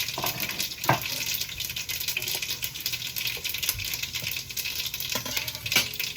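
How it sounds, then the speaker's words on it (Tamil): Whole spices — cinnamon, cloves, mustard seeds, fennel, fenugreek and stone flower — frying in hot oil for a country crab curry, a steady close sizzle with faint crackles and a few sharper pops throughout, no talk. "கராம்பு கடுகு பெரிய சீரகம் வெந்தயம் கல்பாக்கு எல்லா ஸ்பைசஸும் போட்டாச்சு"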